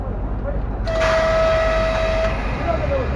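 Children's railway train in Kyiv sounds a clear sustained horn for about a second and a half, then a short second toot as it starts off, over low rumbling running noise.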